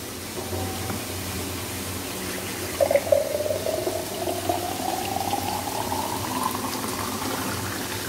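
Water pours from a jar into a pot of dal for about four seconds, a gurgling stream whose pitch rises as the pot fills, over a low kitchen hum.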